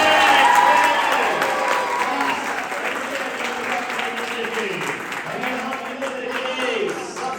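School children applauding in a classroom or hall, a loud sustained burst of clapping that fades slightly, with some voices mixed in.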